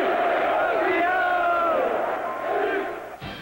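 A packed arena crowd roars in cheers for a winning volleyball team at Maracanãzinho, a loud continuous mass of voices with rising whoops and yells that ends abruptly.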